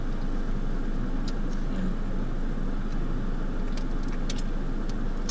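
Car interior while driving, a steady low road and engine rumble with constant broadband noise and occasional faint ticks, heard close from inside the cabin.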